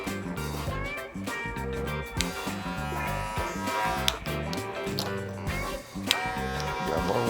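Electric hair clippers fitted with a number one guard cutting hair during a high skin fade, a steady close buzz interrupted by clicks and brief shifts as the blade moves.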